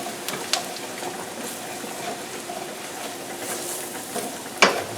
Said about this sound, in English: So I got my oil hot. Let's put some flour in here.